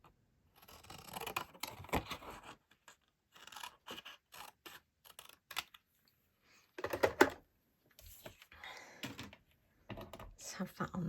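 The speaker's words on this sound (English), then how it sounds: "So I'm just going to cut that card down." Scissors cutting down a greeting card during card-making, a series of close, crisp snips and paper rustles in short bursts with pauses between, while a voice talks intermittently.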